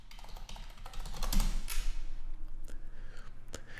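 Typing on a computer keyboard while entering sign-in details, a quick close run of key clicks with a louder burst near the start, then irregular taps trailing off.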